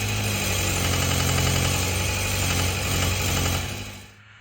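A 1981 VW Rabbit diesel engine, just refitted with its injection pump, runs close and loud with a steady clattering idle hum before cutting off abruptly near the end.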